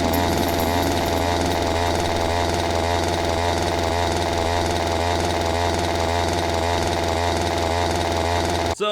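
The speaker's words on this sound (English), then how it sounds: "all you hear for the rest of the time is this chainsaw in the background" A chainsaw drones steadily in a zombie horror video game, a loud continuous buzzing engine with rhythmic pulsing revs for the whole stretch, cutting off abruptly at the end.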